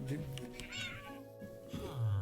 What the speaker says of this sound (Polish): kociara przyszła